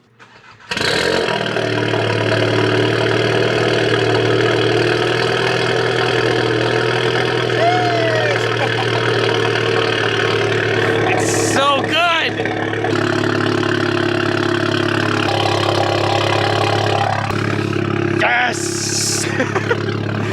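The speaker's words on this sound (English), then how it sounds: "Let's hear that cold start, baby." A VW MK7 GTI with an aftermarket exhaust cold starts with a sharp crank and roar, then settles into a loud, steady, close idle drone with brief revs and occasional voices in the background.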